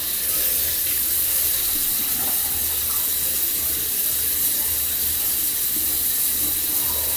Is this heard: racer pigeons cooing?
no